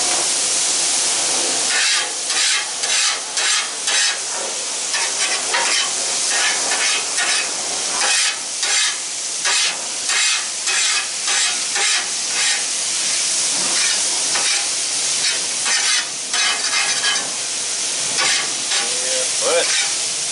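Philly cheese steak meat sizzling and frying on a Blackstone griddle, a steady loud hiss with repeated scraping clatter of spatulas working the food throughout.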